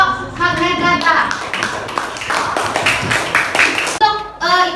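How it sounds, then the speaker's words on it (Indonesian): Classroom applause for a student group after a presentation, scattered close hand clapping from a small class, mixed with voices talking over it and near the end. "Tepuk tangan untuk kelompok magnet ladang."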